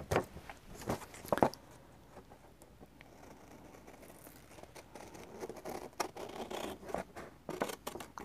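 Scissors snip and crunch through paper while an envelope is being cut, a few sharp close cuts at the start, then quieter rustling and scattered snips.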